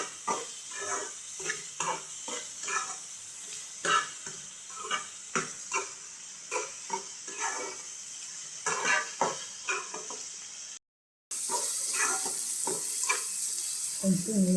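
Dried fish frying in a pan with salt for a drumstick curry, a loud close sizzle under regular rhythmic scraping strokes of a spatula, cut by a short silence before a brighter, hotter sizzle resumes.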